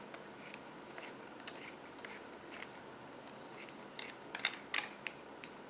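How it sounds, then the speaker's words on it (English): Quiet, crisp snips of small embroidery scissors trimming yarn on a crochet amigurumi repeat irregularly, a dozen or so short cuts close by, getting sharper toward the end, with no talking. "I just trim right down the center of the arch with my embroidery scissors"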